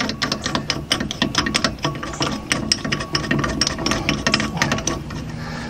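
A tool is screwed down against the bolt through the upper ball joint of a VW Beetle being lowered with drop spindles, making rapid, close ratcheting clicks that keep going steadily.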